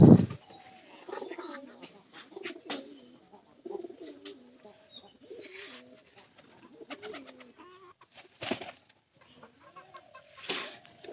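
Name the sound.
pigeons cooing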